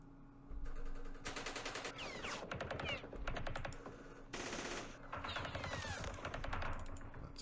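Machine-gun fire from units in the wargame Campaign Series Middle East: several long, rapid rattling bursts with brief pauses between them, fairly loud and continuous, with no voices.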